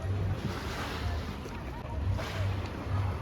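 Evening sea waves at Gurzuf on the Crimean coast, a broad steady wash of surf with gentle swells and some wind rumble, no voices.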